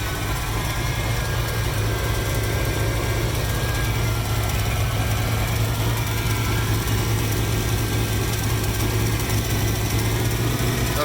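A 1982 Ford Capri RS engine idles steadily during warm-up, a close, continuous, even rumble with a slight high idle and no pauses or talk.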